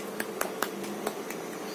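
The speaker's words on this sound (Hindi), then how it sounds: "ताली बजाइए।" Several sharp hand claps, about five or six spaced irregularly, ring out over a steady background hum at moderate loudness with no speech.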